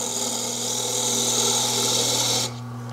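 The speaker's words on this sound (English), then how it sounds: "An easy trick is to take a nice sharpened scraper, cutting downhill. Just scrape in just like that." A sharpened scraper shears the edge of a wooden bowl spinning on a lathe, a steady, loud rasping hiss over the motor's hum that cuts off abruptly near the end, leaving only the machine running.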